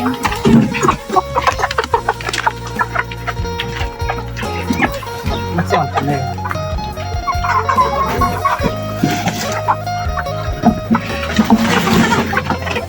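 A chicken trader's flock clucks and crows, busy and noisy, close by and loud, with a brief spoken phrase near the start.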